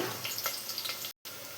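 Onions, curry leaves and tempering spices frying in oil for a cucumber (dosakaya) curry, giving a steady close sizzle and crackle with a brief cut to silence near the end.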